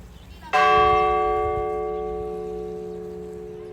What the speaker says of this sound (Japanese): 外に出たらちょうど12時、鐘の音が響き渡りました。